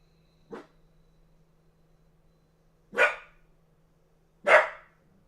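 Three sharp dog barks, a single one followed by a pause and then two more, somewhat distant against a low steady hum.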